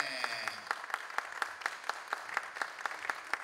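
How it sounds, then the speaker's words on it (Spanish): Audience applause at a live circus show in Peru, a steady wash of many hands with sharp individual claps standing out in a loose rhythm, filling the room at moderate distance. "¡Aplauso grande!"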